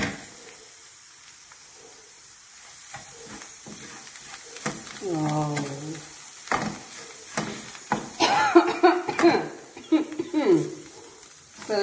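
Bitter gourd fry is stirred in a pan, with a soft sizzle and intermittent scraping strokes that grow busier toward the end, and a voice briefly heard.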